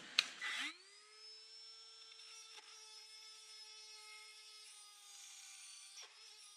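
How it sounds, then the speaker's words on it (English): A small die grinder spins up with a sharp whine and holds a steady high tone while cutting a part into a rough circle, during work connecting a Mercedes V12 to a Subaru six-speed gearbox. "take my little die grinder here"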